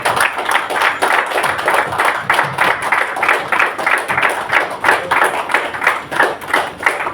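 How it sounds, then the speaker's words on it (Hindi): A crowd at a Dussehra event at Nirmal Darshan Nashamukti Kendra in Haldwani gives loud, sustained applause, with dense hand claps that hold steady for several seconds. "एक बार जोरदार तालियां।"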